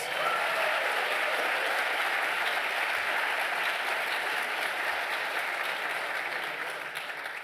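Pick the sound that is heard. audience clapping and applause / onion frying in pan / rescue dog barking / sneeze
audience clapping and applause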